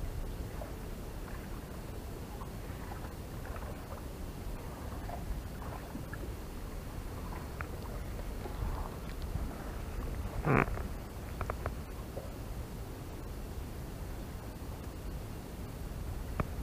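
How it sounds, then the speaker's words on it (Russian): A small motor launch passes on open water during a windy, stormy fishing outing, its engine wash a steady broadband rush with a brief louder swell near the middle, with no talk. "Катерок прошелся, болтанка началась."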